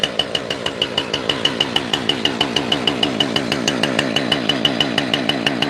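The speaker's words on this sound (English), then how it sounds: "This is a chainsaw and choke." Chainsaw engine running at steady revs, a loud close buzzing drone with a rapid regular pulsing rattle throughout, a slight rise in pitch as it goes, no voices.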